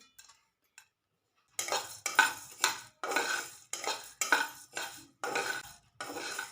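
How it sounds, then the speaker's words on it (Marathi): Whole peppercorns, cloves and cinnamon dry-roasting in a pan, stirred with a metal spoon in a quick series of rhythmic scraping, rattling strokes, close and clear after a brief quiet start. "आता हे साहित्य आपल्याला छान असं खमंग असं भाजून घ्यायचं"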